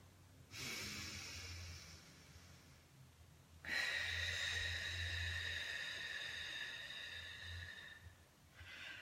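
Two long, deep, slow breaths, each a drawn-out airy rush with a brief quiet gap between them, close and clear with no talking over them.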